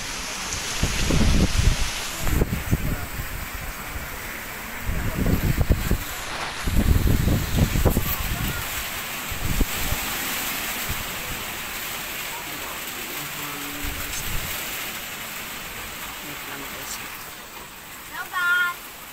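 Strong typhoon wind and heavy rain outdoors, a steady rushing hiss with louder gusts and thuds early on, while someone talks over it intermittently.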